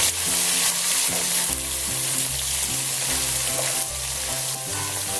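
Onions frying in a pan with a spoonful of ginger-garlic paste added for vegetable pea-potato pulao, giving a steady, close sizzle that runs throughout under background music.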